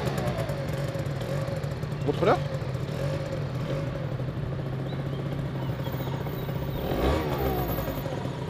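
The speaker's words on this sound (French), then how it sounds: "Bon, je vais démarrer le scooter" A new scooter engine starts and runs nearby, with brief rev surges near the start and again toward the end over a steady mid-pitched hum, while people talk over it.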